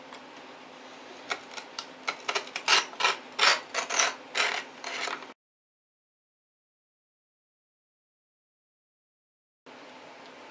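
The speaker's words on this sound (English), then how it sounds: "we did 5 to 10 passes on the coarse diamond plate" A knife blade rasps in quick strokes across a Work Sharp coarse diamond plate, about a dozen scraping passes building in strength, then a sudden cut to silence before faint noise returns.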